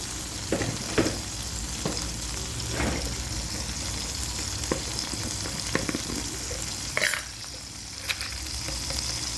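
Salted native tomatoes sizzle steadily in a pan while a spoon stirs them, with scraping clicks rising above a constant close, loud frying hiss.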